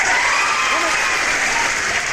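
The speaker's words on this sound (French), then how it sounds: "Moi-même, j'applaudis pour moi-même." Applause from a crowd at a comedy show, loud and dense clapping that stays steady throughout, with a few voices faintly mixed in.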